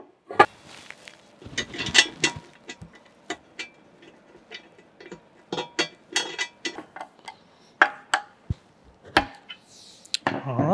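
Metal clicks and clanks as a cover is bolted onto a blacksmith forge blower, with irregular sharp taps, ratcheting ticks and small knocks scattered close by in a quiet room.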